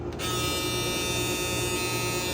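A steady, loud Braun Series 8 electric shaver motor buzzing continuously, close up, with a constant high-pitched whine and no talking.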